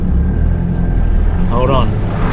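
A 4WD engine is floored in second gear on a wet, muddy forest track, giving a loud, close, roaring drone with wind buffeting and a brief rising rev toward the end.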